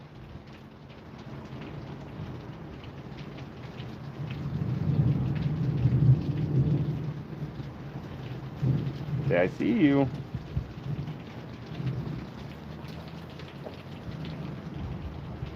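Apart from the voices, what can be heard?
rain at night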